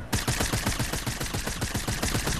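Rapid SMG fire in a shooter video game, a dense, steady stream of sharp shots in quick rhythm, loud and close throughout with no talk.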